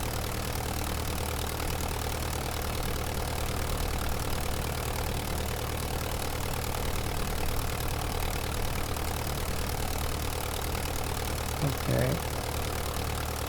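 Steady drone of a Curtiss JN-4 Jenny biplane engine in Microsoft Flight Simulator at about half throttle, continuous and even throughout, with a brief spoken word near the end.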